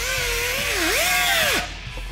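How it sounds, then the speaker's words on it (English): An angle grinder with a 36 grit disc grinds down a weld on a custom intercooler for an Ecoboost-powered 1955 Ford F100. It gives a loud, steady whine for about a second and a half, with the pitch dipping and rising, then cuts off. "we can grind down the weld with 36 grit on an angle grinder."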